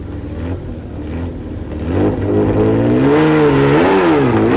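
A rally car leaving the start of the 1991 Toyota 1000 rally revs and accelerates away. The engine note climbs in loud, wavering surges, close by and without voices.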